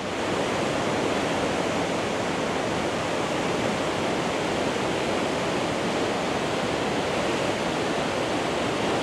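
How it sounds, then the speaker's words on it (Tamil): A waterfall near Lake Brienz in Switzerland roars with a dense, constant rush of falling water, steady and close throughout, with no voices. "இதுக்கு நடுவில் இவ்வளோ பியூட்டிஃபுல்லான ஒரு ஃபால்ஸ்"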